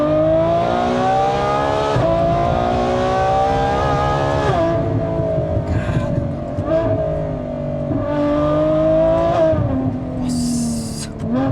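A Ferrari F12 Berlinetta V12 accelerating in the night: a loud, close, rising engine howl that climbs through several gear changes, dipping briefly between shifts before pulling hard again.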